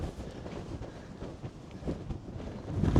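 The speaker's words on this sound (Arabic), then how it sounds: "الريح بزايد." Strong wind buffets the microphone outdoors near the kasbah of Ait Ben Haddou, a continuous low rumbling roar that swells louder toward the end.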